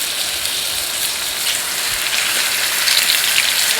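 Steak hitting a hot oiled pan for a steak-and-potatoes dinner, a steady, dense crackling sizzle that stays loud and even throughout, with no talking.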